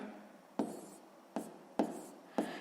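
A pen scratches across paper working out a maths calculation for a sixth-grade fractions exercise, in four short, quiet strokes separated by pauses, each starting sharply and trailing off.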